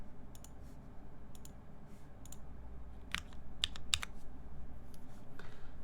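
Typing on a Geonworks F1-8X mechanical keyboard fitted with GMK Space Cadet keycaps: close, crisp keystroke clicks in short bursts and scattered single presses over a low background hum, with no talking.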